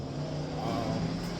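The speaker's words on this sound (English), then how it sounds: "we got somebody drag racing out here today" A car revs outdoors during nearby drag racing, a steady rumbling engine drone with a rising pitch that sounds moderately distant.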